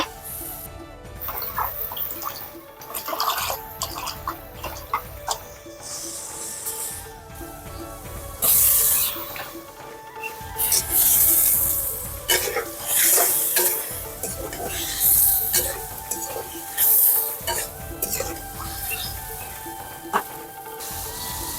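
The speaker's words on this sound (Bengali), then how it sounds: "এখন আমি এর মধ্যে মাছ দিয়ে দিব" Fish cooking in a pan of spice paste sizzles and crackles, with repeated stirring and scraping sounds coming in uneven bursts close to the listener.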